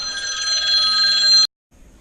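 A phone rings with an incoming call, a steady bright electronic ring that sounds loud and close for about a second and a half, then cuts off abruptly, leaving quiet room noise.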